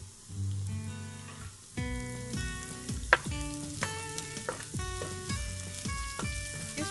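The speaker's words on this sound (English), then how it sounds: "I'm putting all the ginger and garlic, just saute." Ginger, garlic and green chilies sauté for chicken fried rice, a soft sizzle under clanking and scraping of a utensil against the pan in an uneven rhythm, with no talking.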